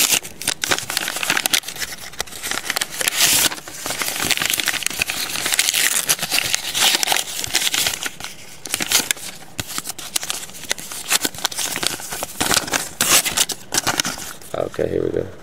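Paper mail envelope being handled and torn open, with repeated crinkling, rustling and tearing bursts close up while a person talks over it.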